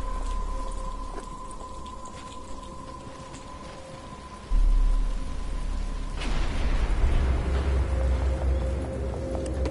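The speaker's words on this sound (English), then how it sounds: "But it's starting to rain." Rain falls in the video game Batman Arkham Asylum, a steady hiss that swells into a heavier downpour, with a low rumble of thunder rolling in midway and continuing beneath.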